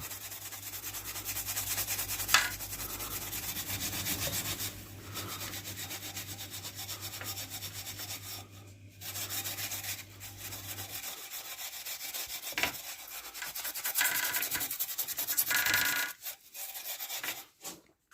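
Steel wool rubbing gently over the painted frame of a Raleigh Chopper Mk2 bicycle during a clean-up, a steady close scratchy scrubbing that runs on with short pauses and changes of stroke.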